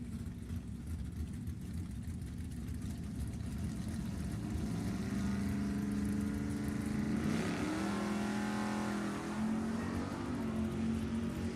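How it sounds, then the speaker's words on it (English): At a drag strip, a 1979 car and a 1984 Camaro launch, engines building from a rumble into a loud rising roar that climbs and shifts pitch, moderately close with no talk. "right side, Dennis Sato, dialed in 638 in the 84 Camaro"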